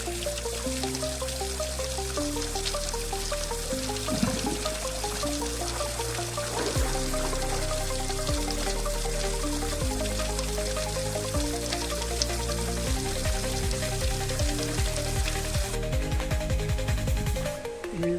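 Continuous rushing water with steady splashing, a dense roar of falling water heard up close alongside a few tonal sounds, at Natif Waterfalls near the sea in Salalah.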